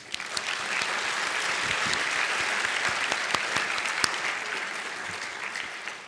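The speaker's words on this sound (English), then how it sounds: "Please, a round of applause." Sustained audience applause at a winter commencement ceremony, a dense, steady wash of many hands clapping for about six seconds with a few sharper individual claps standing out.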